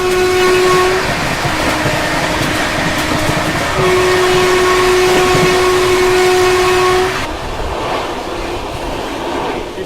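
Train noise rumbles steadily from close by as the North East Express is overtaken, with long horn-like tones held over the roar, which drops abruptly near the end.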